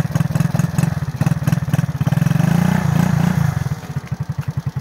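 An RKS Sniper Pro motorcycle engine on a snowy ride revs up loud and close, its rough pulsing putter rising into a sustained roar, then dropping back to a choppy idle.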